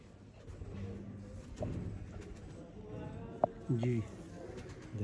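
Sialkoti pigeons coo in low, throaty rolls at close range, with a few sharp clicks in between, while someone talks.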